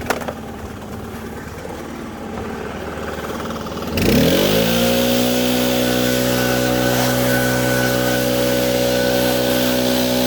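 A small-engine blower starting up and holding a loud steady whine while blowing off a freshly textured concrete surface, close and continuous after a few seconds of quieter rumbling.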